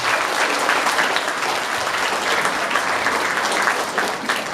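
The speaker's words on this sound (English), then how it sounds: "Give yourselves a loud round of applause." A full hall audience at a Rabindra Jayanti and annual award ceremony claps in sustained, dense applause, loud and even throughout with no clear speech.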